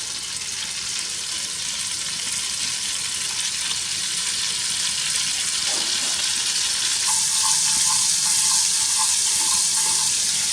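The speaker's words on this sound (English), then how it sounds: "move the butter around a little so that it melts easily" Butter melts in a hot pan for eggless pancakes and a burnt butter sauce, giving a steady, close sizzle that holds unbroken throughout and grows slightly brighter toward the end, with no voices.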